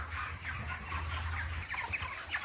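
Cornish Rock Cross meat chickens cluck continuously in their pen on fresh bedding, a busy flock chorus of overlapping short clucks over a steady low hum, close and fairly loud.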